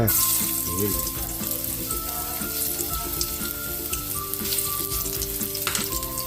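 Ginger fries in hot oil as the first step of a coconut-milk tuna dish, a strong, continuous crackling sizzle held close for several seconds with faint stirring and a soft tonal background beneath.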